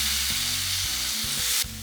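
Potatoes sizzle steadily in hot oil with bell peppers for honey chilli potato, a loud, continuous broadband hiss with a low hum underneath and brief shifts as the pan is stirred.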